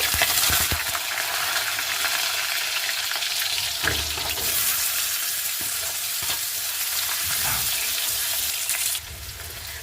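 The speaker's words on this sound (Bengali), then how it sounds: "কাঁঠালটা দেখুন আমি হালকা করে ভেজে নিয়েছি, কাঁঠাল কিন্তু বেশি ভাজতে হবে না" Jackfruit pieces frying lightly in oil, a steady crackling sizzle with intermittent stirring scrapes, close and fairly loud, then the frying softens slightly near the end, with no talking.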